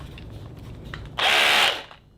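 A Bosch Professional SDS Plus hammer drill at full speed bursts into a loud, steady half-second drilling whine and rattle, then winds down, after a quieter lead-in with no talk.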